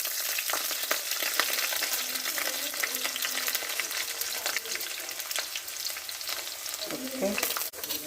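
Ginger sautés in a pan for a fish curry, giving a steady close sizzle broken by scraping stirs and brief crackling bursts, with no talking.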